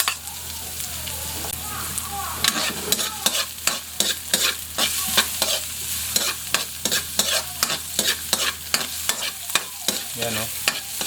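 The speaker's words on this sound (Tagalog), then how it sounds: "Ngayon, sunodin natin yung bawang at sibuyas." Garlic and onion sautéing in a pan for sinigang with milkfish and prawns, with a close sizzle under rapid, rhythmic scraping and stirring strokes that grow busier toward the end.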